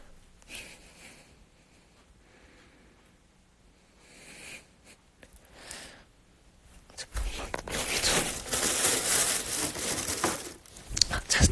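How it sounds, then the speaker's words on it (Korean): Plastic bag crinkling up close, faint rustles at first that swell into loud, dense crackling and scrunching for the last few seconds. "아 비닐봉지구나."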